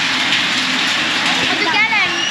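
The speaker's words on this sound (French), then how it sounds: "Il pleut un peu" Light rain falls outdoors in Tam Coc, Vietnam, a soft, even hiss filling the background, with faint voices and a brief warbling tone near the end.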